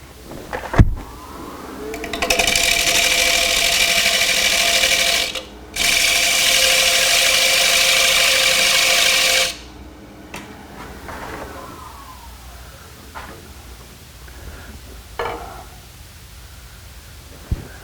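A gouge cuts into a wooden bowl spinning on a wood lathe, giving a loud, steady rasping hiss that runs for several seconds, breaks briefly, resumes, then stops and leaves quieter scraping and light taps.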